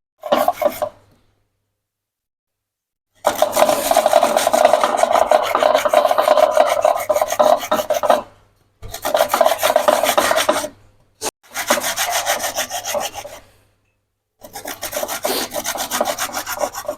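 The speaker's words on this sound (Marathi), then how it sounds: "असं आपलं गाजर किसून होतं" Carrots rasp against a hand grater for gajar halwa, long runs of steady scraping strokes close by, broken by short silent pauses between bursts.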